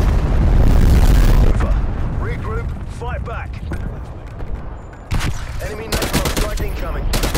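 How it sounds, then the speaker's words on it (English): Napalm strike explosions in Call of Duty: Cold War rumble loudly, with a heavy roar of blasts and crackling fire, mixed with distant gunfire and game voice callouts. "Enemy napalm."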